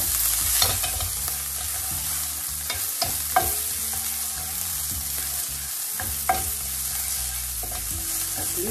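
Ginger and garlic fry in a little oil in a pan for a rice-noodle dish with vegetables and mushrooms, giving a steady, close sizzle under repeated scraping and stirring clatter, with no talking.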